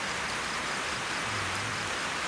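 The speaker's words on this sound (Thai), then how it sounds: "ฝนตก" Rain falls on rice fields and farmland on a cool morning, making a steady, dense hiss that runs evenly throughout. A faint low hum sits underneath, and no one speaks.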